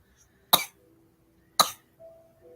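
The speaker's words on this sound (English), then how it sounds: "this is his new thing, the fake cough" Two sharp fake coughs from a man, evenly spaced about a second apart, fairly close and otherwise alone apart from a faint tonal hum afterward.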